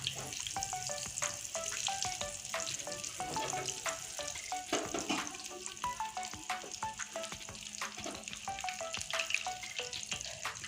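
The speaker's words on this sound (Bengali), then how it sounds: "আমি এখন মাছের পকোড়াগুলো উল্টিয়ে দিচ্ছি" Fish roe pakoras frying in hot oil and being flipped, a dense continuous sizzle with crackling pops throughout, loud and close, with no speech.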